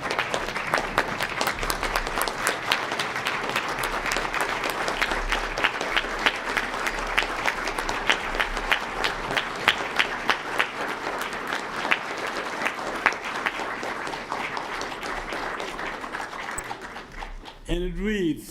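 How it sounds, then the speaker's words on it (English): Audience clapping at a Martin Luther King Jr. birthday celebration award presentation, sustained dense applause filling the room before fading as a voice begins speaking at the end. "Please join me in standing and offering a resounding round of applause for our 2026 Lee Reed Award recipient, Senator Gordon M. Johnson."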